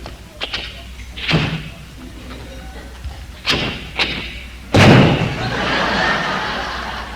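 A voice imitates a car door being opened carefully, with a few sharp clicks and thumps, then a loud creaky burst trailing into a hissing rasp, close and loud.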